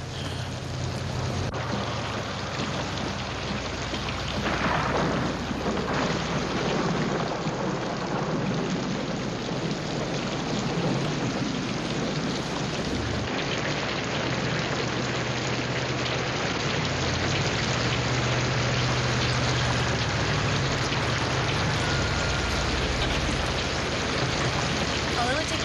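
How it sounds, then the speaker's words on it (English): Steady rain falling and pattering on a surface, a continuous broadband hiss that stays loud and even throughout, with a low rumble underneath and occasional faint voices in the background. "It's starting to rain."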